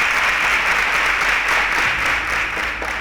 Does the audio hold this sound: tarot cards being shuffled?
no